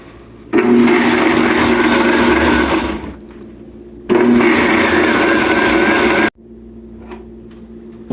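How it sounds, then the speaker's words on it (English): A blender blending a grasshopper smoothie whirs loudly in two bursts of a few seconds each, cutting off sharply, with a quieter background hum in between. "put it over here on my blender and blend it until it's smooth"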